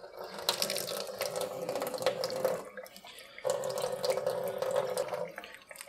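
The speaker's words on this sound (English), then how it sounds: "I'll just water it really well." Tap water running into a kitchen sink while a self-watering pepper tray is soaked, a steady splashing stream that cuts off briefly and resumes, close and fairly loud, with no talk.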